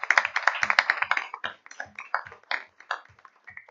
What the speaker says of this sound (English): let's give Miss Rampy another round of applause.